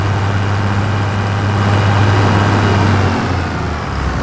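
A tractor engine runs in Farming Simulator 25 while it fertilizes a field, a steady low drone holding even and loud throughout, with no other sounds on top.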